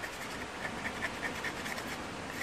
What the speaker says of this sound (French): Ensuite, on prend le papier de verre